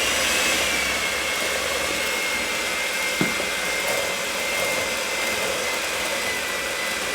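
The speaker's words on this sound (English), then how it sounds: "It almost jammed up our mixer" An electric mixer churns through very thick chocolate sauerkraut cake batter, a loud, steady whirring drone that runs without pause, with a brief clunk partway through.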